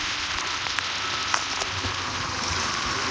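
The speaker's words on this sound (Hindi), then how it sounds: "यहाँ पर बहुत तेज़ बारिश हो रही है।" Heavy rain pours onto a soaked road in a steady, dense hiss with scattered sharper drops, close and loud throughout with no voices.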